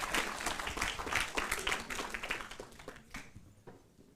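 A theatre audience gives speakers leaving the stage a final round of applause, steady mixed clapping that thins out and fades over about four seconds at modest volume.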